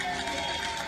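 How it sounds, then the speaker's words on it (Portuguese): Studio audience applause filling a TV talk-show auditorium, a dense, steady wash of clapping with some crowd noise, sustained and fairly loud across the whole second. "E fazia tempo que eu não via as palmas do nosso auditório, sempre repleto de pessoas felizes."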